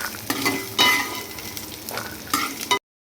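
Peanuts and cumin seeds fry in oil for pesarattu chutney, a bright sizzle broken by a few louder bursts of stirring with a spatula, close up and without speech, ending abruptly.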